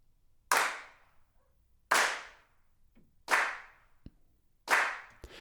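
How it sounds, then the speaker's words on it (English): Four separate drum-machine hand claps from Logic Drummer, soloed, each a sharp, bright snap with a short decaying tail, spaced evenly about every second and a half with silence in between. "if I click on hand claps now, it adds in extra hand claps here"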